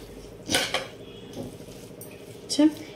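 Rice being stirred and mixed in a metal pot with a spoon, giving a couple of close scraping, clinking utensil strokes against the pot over a quiet kitchen background.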